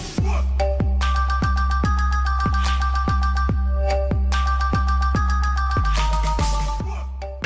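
A phone rings with an incoming call in a Kannada TV serial scene: a loud, looping melodic ringtone with punchy beats, its phrase playing twice in succession with nothing else over it.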